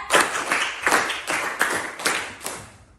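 A class claps in a counted rhythm pattern, about eight sharp, fairly close claps grouped in quick pairs and short runs across a few seconds, with no talking between them.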